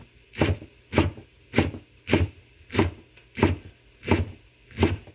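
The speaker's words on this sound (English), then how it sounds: "then I just take a knife and I just start dicing it like so" Rolled-up collard greens are diced with a knife on a board, eight evenly spaced close, crisp chops falling roughly every two-thirds of a second.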